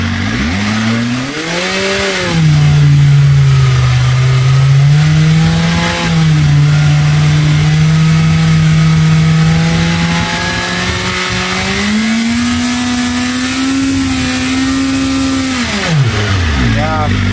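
BMW M1000RR superbike engine revving through an aftermarket exhaust, a loud close rise in pitch that holds steady for several seconds, climbs again near the end, then drops away as the throttle closes.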